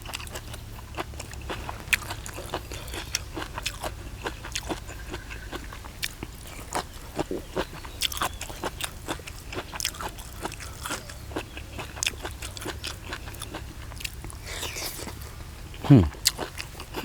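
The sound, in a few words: crunchy chewing while eating Thai koi dish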